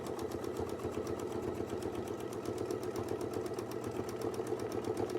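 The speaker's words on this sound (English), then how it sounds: "I'll try to sew a little faster." A sewing machine stitching a quilt runs steadily at a fast, even rhythm, its rapid needle clatter continuous and close throughout with no voices.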